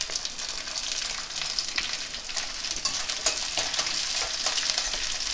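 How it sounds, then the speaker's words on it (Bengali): Shredded coconut frying in a pan with slit green chillies, a steady broadband sizzle with faint scraping stir clicks throughout, close and moderately loud, no talking. "নারকেল কুচিটা আমি একটু লাল করে ভেজে নেব।"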